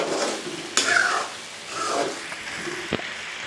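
Brinjals stuffed with red chili frying in a pan, with a soft steady sizzle, a few stirring scrapes and a sharp utensil tap near the end, close and moderately quiet.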